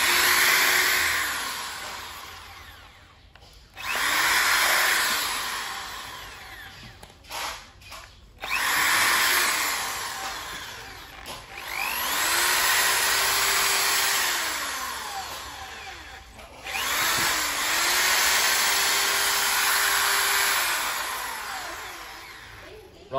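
Ryobi 470W corded hammer drill with a 13 mm chuck runs in repeated bursts, each whine spinning up, holding steady and then winding down between short pauses, loud and close.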